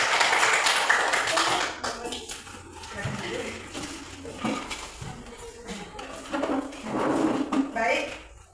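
A classroom group claps together after a student discussion in a Christian religious education lesson, an uneven mix of hand claps and taps running for several seconds at moderate loudness, with indoor noise throughout.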